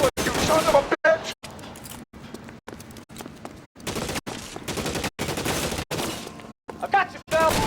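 Gunfire in L.A. Noire rings out in loud, dense bursts of rapid shots separated by short silent gaps, with someone shouting over the shooting.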